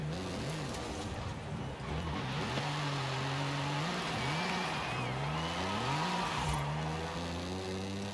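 Toyota Camry engine driven in the Forza Horizon 5 game, a mid-pitched engine note that climbs and dips with throttle and gear changes, continuous and fairly close with no talk.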